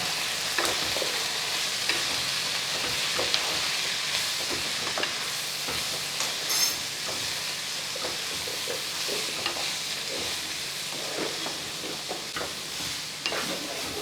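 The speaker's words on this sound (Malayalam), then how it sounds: "ചെറിയ തീയിൽ വേണം ഇത് റെഡിയാക്കിയെടുക്കാൻ നമുക്കിനി ഒന്ന് ഇളക്കി കൊടുക്കാം" Cabbage curry sizzles in a hot frying pan over low heat while a spoon stirs it, soft scraping and clinks repeating over a steady frying hiss.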